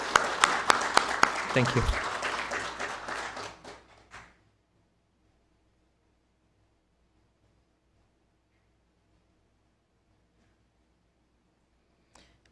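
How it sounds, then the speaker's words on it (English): A round of applause from the audience at an awards ceremony, steady clapping with a brief thanks spoken over it, fading out after about four seconds into near silence. "let's give them another round of applause, please"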